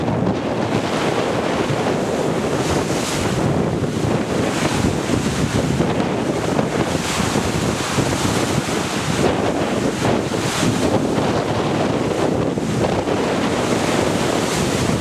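Strong wind buffets the microphone over rough, crashing waves aboard the Lummi Island ferry on a windy day, a loud, continuous roar of surf and gusts with no talking.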